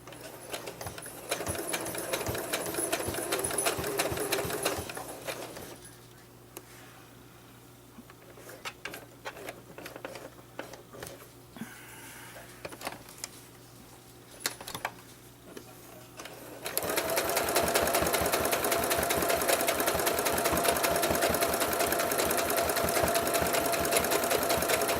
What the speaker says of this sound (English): my sewing machine is making a little bit of a thump thump thump thump noise as it goes through the fabric